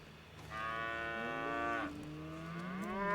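A sick cow in a Red Dead roleplay game lets out a long, drawn-out moo, clear and close, followed by a second, shorter lowing call that rises at the end.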